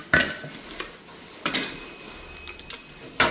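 A spoon stirring papaya salad in a mortar gives a few sharp clinks and scrapes, spaced irregularly and close by, with quiet gaps between the knocks.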